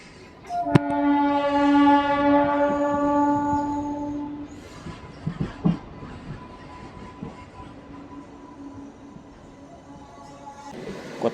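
A DEMU passenger train on the Kachiguda to Nadikudi line sounds a long, loud horn blast, then runs on with steady rumbling and clattering from the tracks, punctuated by sharp metallic knocks, fading toward the end.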